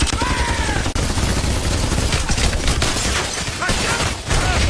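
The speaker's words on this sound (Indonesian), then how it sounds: "membuka senjata berat yang mereka bawa, yaitu M2 Browning alias senapan mesin dengan peluru berkaliber besar" Dense, continuous fire from an M2 Browning heavy machine gun rattles without pause, loud and close, with a few brief dips in the barrage and a faint voice buried underneath.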